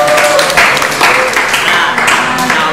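Audience applause at a student dialogue event on choosing wise leaders, loud close clapping from a room full of people that keeps up steadily and never dies away.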